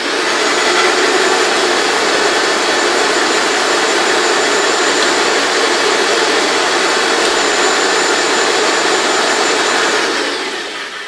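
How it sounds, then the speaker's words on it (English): An airless paint sprayer pump runs steadily while cycling to flush out leftover paint during maintenance, giving a loud, continuous hissing roar that holds for about ten seconds before easing off slightly at the end. "toggle the selector back between cycling through the pump and here"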